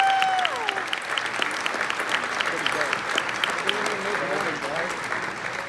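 Steady applause from a crowd at a fall fundraising gala fills the whole stretch, with scattered cheers and voices mixed in.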